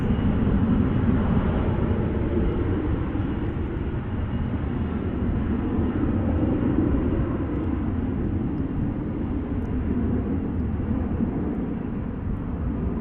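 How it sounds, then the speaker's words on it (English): A McDonnell Douglas DC-10 at Dallas Fort Worth airport, a sustained roaring jet rumble that holds loud and steady throughout, heard from the ground without talk. "Ooh, a DC-10."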